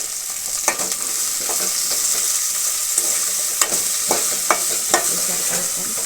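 Okra tamarind curry with turmeric sizzles in a pan while a spoon stirs it, steady frying hiss under sharp scraping clinks that come every half second or so, with no voice heard.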